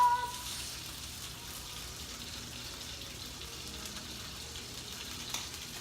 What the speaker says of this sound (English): we're gonna take those mushrooms that we had, throw them into a pan